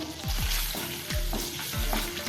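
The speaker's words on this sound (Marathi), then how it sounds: "लसूण आपण आता थोडासा फ्राय करून घेऊया" Grated garlic fries in melted butter with a steady close sizzle, punctuated by three or four rhythmic scraping strokes of a spoon stirring through the pan.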